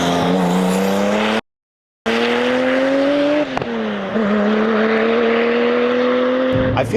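A Porsche fitted with a Renline intake accelerates hard from close range, its engine note climbing steadily with pronounced intake roar and turbo whoosh, broken by a brief silent gap and a quick shift.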